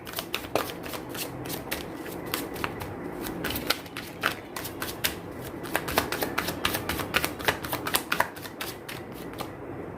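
Tarot cards are shuffled and drawn by hand in a quiet room, with a steady run of close, crisp riffling flicks and slaps going on for several seconds and no talking.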